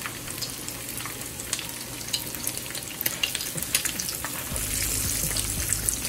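Salmon patties fry in a pan over medium heat, a steady crackling sizzle with scattered pops that swells a little louder toward the end.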